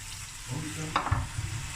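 Water is poured into curry cooking in a pan, giving a brief splash and a soft sizzle over a low background hiss, quiet and close.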